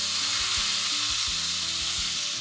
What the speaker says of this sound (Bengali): বাটা মশলা দিয়ে গ্যাসের ফ্লেমটাকে মিডিয়ামে করে দিয়ে খুব ভালো করে কষিয়ে নিতে হবে